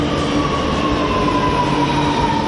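Chennai metro train on the Poonamallee–Porur line running steadily past, a continuous loud rumble of rail transport with a faint tonal whine, no voices.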